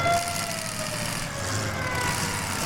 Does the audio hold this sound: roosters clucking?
no